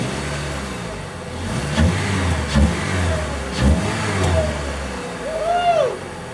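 A Chevrolet Cobalt engine cranks in a few rough, thumping bursts before catching and revving, heard close and fairly loud against a noisy background.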